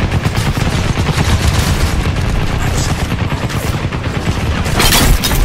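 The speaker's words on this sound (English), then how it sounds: "I'm shooting at you." Constant loud gunfire from Crysis on Delta difficulty, dense overlapping shots and bursts filling the whole stretch, with a louder cluster near the end.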